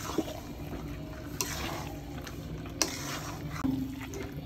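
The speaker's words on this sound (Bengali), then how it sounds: "চিকেনগুলো দিয়ে একটু মশলার সাথে মিলাই নিব, কিছুক্ষণ ভাজা ভাজা করে নিব" Chicken pieces sizzling gently in a pan with spices, with soft wet stirring and a few sharp scrapes and clinks of a spoon, fairly quiet and close.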